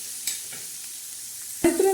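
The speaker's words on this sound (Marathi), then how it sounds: "छान अशी आता ही चटणी आपण हलवणार आहोत" Dried fish (sukat) chutney is stirred as it fries in oil, giving a faint, continuous sizzle with a few light scraping stirs. A sharper clatter of a utensil against the pan comes near the end.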